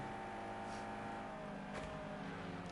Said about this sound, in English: Really anticlimactic engine sound from that BMW